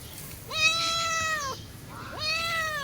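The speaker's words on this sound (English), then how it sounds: "Hey, kitty cat." A cat meows twice in a backyard garden, two drawn-out, rising then falling calls separated by a short pause, fairly close and clear over quiet outdoor background.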